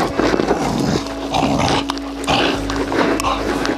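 A dog makes close, irregular vocal sounds and snuffles in short bursts, with some scuffling noise around it.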